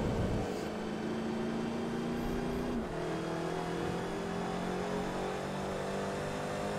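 Nissan race car in Forza Motorsport 3 holding a steady high-revving engine drone, pitch climbing then dropping at a gear shift and rising again, loud and continuous with no talk.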